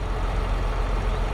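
A tractor engine in Farming Simulator 22, a steady low diesel drone idling close by without change.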